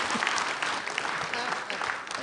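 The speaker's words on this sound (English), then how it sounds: "clap for him again now" Audience applause in a hall during a bank's annual general meeting, a steady broad patter of many hands clapping at moderate volume with no voices over it.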